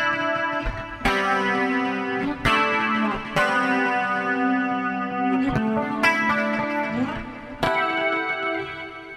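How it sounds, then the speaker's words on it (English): An electric guitar through a Line 6 Helix plays sustained chords with shimmering octave reverb and a wide, lingering hall reverb; each new strum lands over the ringing tail, no speech. "that's the octave reverb, and then I have the dynamic hall reverb as well"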